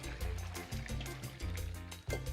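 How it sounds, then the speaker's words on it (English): Hot homemade stock is strained, the liquid pouring and splashing in a steady faint stream with a few short breaks, heard alone. "After 20 minutes, remove the stock from the heat and strain."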